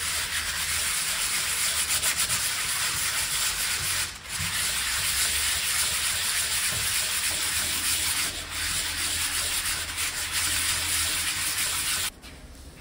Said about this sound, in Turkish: Taşlama dediğimiz olay işte bu arkadaşlar üst kapağımızı taşlıyoruz